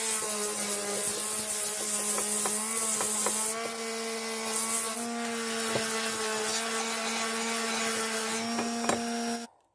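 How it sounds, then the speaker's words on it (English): Palm sander working the wooden handle of a restored axe, a steady close electric whine and hum with rough scraping, shifting pitch midway and cutting off at the end. "just doing a bit of sanding with the palm sander"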